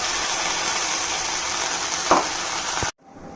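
Whole spices fry in hot oil in a pan for a dhaba-style paneer masala, a steady loud sizzle; a brief splash-like burst rises as puree goes in, then the sound cuts off abruptly.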